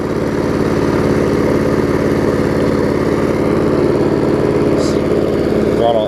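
An older MTD 3.5 horsepower mower engine idles at low throttle, a loud, steady, even putter close by that holds without a break.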